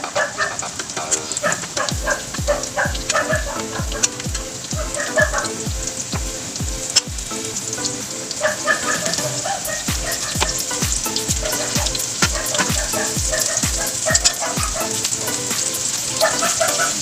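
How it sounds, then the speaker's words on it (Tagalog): Homemade chicken pieces fry in hot oil with a steady, dense sizzle and crackle throughout, loud and close, with repeated low knocks of a utensil and a few faint dog yips in the background. "So, mapiprito na po tayo"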